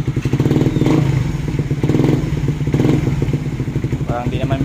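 Stock Honda-style Raider 150 motorcycle with full fairings and a semi-open exhaust pipe on an elbow fitting, idling loud and close with a steady low pulsing throb and a brief rev near the end, someone talking over it.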